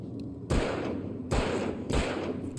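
Gunfire in the video game Alan Wake Remastered: three loud, sharp shots roughly a second apart, each a broad blast with a lingering tail.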